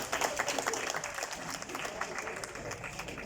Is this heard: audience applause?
yes